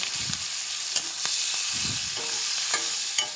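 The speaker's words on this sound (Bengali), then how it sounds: "তেলটা দেওয়ার পরে আমি ওর মধ্যে দিয়ে দেবো চীনাবাদামগুলো একটু ভাজার জন্যে আর চিংড়ি মাছগুলোকে" Peanuts and shrimp frying in hot oil in a wok, a steady close sizzle with soft stirring scrapes and a few sharp clinks of a utensil against the pan.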